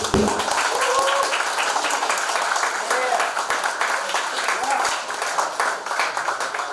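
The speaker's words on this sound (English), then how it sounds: "Can we give the candidates one big round of applause once again?" An audience at a candidate forum for Assembly District 30 and Senate District 12 claps steadily and densely throughout, a sustained wash of applause with a voice speaking faintly underneath.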